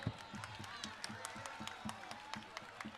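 A crowd clapping at a political rally at a taxi stand, with dense, continuous applause made of many overlapping sharp claps, moderately distant and without a single dominant voice.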